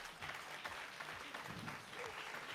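Studio audience applause for the commentators on a talk show, a faint, low-level spread of clapping that runs evenly for a couple of seconds with no voices over it.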